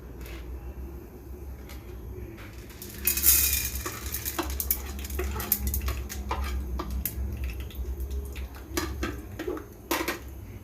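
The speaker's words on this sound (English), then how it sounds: "ఇప్పుడు పాప్కార్న్ వేసుకుందాం" Popcorn kernels tipped into hot oil in a pan, with a brief rattling pour followed by a light sizzle and scattered clinks of a spoon against the pan, close and moderately loud.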